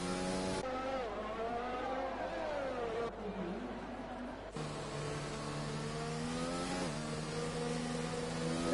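Open-wheel race car engines in the F1 2020 game at the Brazil round scream through a lap, with pitch climbing and dropping sharply at each gear change and braking point, steady and loud with no talk.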